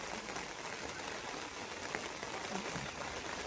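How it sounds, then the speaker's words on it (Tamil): Heavy rain pours down steadily on a surface during a sudden downpour after a hot, sunny day, a dense, even hiss with no talk over it. "நல்லா பெரிய மழையாகவே பெய்யுது"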